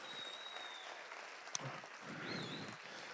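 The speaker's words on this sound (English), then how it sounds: "Give them a round of applause" Audience clapping at a gala charity auction after a lot is sold, a soft, fairly distant patter of applause with a faint whistle cutting through, steady throughout the short stretch.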